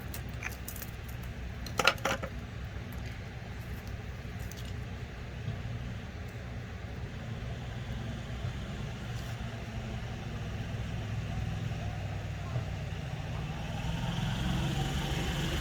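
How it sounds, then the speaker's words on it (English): Steady low rumble of cars passing on a residential street outside, a continuous traffic wash that swells toward the end, with a brief clatter early on and no talk. "everybody, I guess, and their brother has decided to drive down my street right now"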